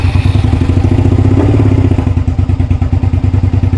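A straight-piped Suzuki SV650 motorcycle fires up and settles into a loud, close, rapidly pulsing unmuffled idle with a rough, uneven lope.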